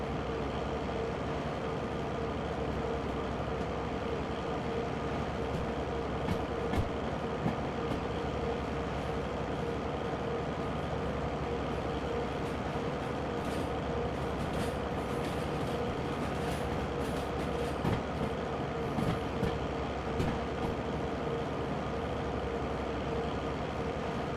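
A train shunts at a moderate speed in the railway game Derail Valley, a steady rumbling engine drone with rolling wheel noise and occasional clanks and creaks from the wagons, continuous and without talk.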